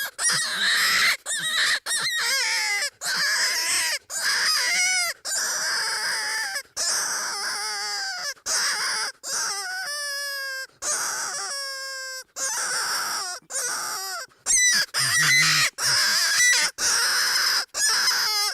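Hand-blown predator call used to lure coyotes, sounding loudly in a rapid series of drawn-out, wailing and bending squalls separated by brief gaps, close and forceful with no talking.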